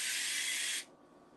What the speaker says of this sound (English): Technically, you're not supposed to spray straight on the pan while it's on the stovetop.